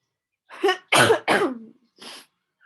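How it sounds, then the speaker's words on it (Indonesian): A person coughs several times in a quick cluster, three harsh close coughs followed by a fainter fourth after a short pause. "maaf ya, lagi batuk"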